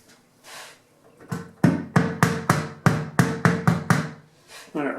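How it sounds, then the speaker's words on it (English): A hammer taps on the back piece of a door peephole, with about a dozen sharp, close wooden knocks in an uneven rhythm that quicken in the middle and are preceded by a few softer sounds. "do a little hammer on the back side here"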